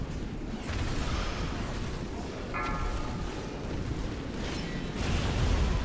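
Bombs exploding during a World of Warcraft boss fight, a dense, continuous roar of blasts and bursts layered with game effects, loud and sustained throughout with a sharper crack midway.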